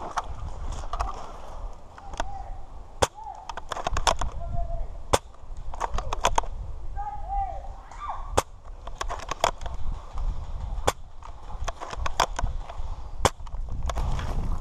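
Airsoft guns fire during a forest game, sharp snapping shots rattling off singly and in quick bursts, some close and some farther off, while players shout and talk throughout.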